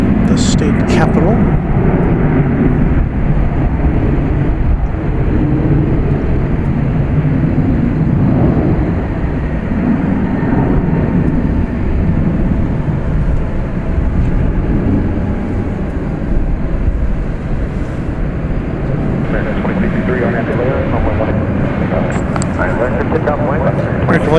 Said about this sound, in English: This American Eagle E-Jet coming in from Austin, Texas, the state capital.